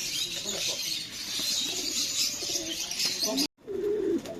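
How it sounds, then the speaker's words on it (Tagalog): Pakistani tippler pigeons cooing steadily amid a busy indoor bird market, with chirps and bird calls filling the background and faint voices under the din. "Ito mga tipler, Pakistani tipler."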